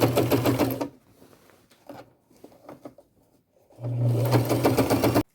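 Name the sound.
sewing machine sewing a zigzag stitch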